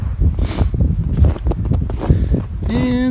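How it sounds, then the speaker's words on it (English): Gusty winter wind buffeting the microphone in loud, uneven rumbles at a snowy campsite, with faint crunching movement and a brief tonal whine near the end. "It's windy."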